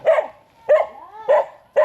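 A dog barks repeatedly up close in a village in Balamban, Cebu, three or four sharp, loud barks with a whiny yelp between them.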